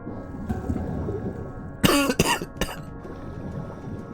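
A livestreamer playing Dave the Diver lets out a short cluster of three or four harsh, close coughs in the middle, with quiet room tone before and after.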